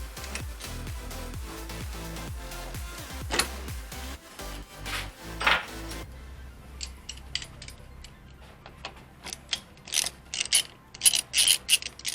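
A hand ratchet clicks rapidly in close bursts while removing two 12 mm bolts from the intercooler piping on a 2008–2015 Mitsubishi Lancer Evolution X, followed by sparser metallic clicks and clanks.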